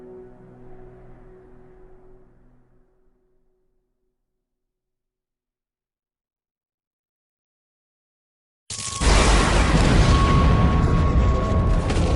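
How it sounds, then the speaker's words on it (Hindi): In the Attack on Titan anime, during the fall of Shiganshina, a low rumbling fades into total silence, then a sudden massive blast erupts and keeps roaring loudly with broad, crackling energy. "एक धमाका?"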